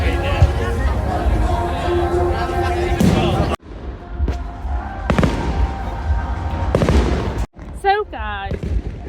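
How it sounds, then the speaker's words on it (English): Bonfire Night fireworks going off outside, a series of sharp bangs and crackles of varying loudness spread across several seconds, heard under people talking nearby and a voice. "the fireworks are still going off out"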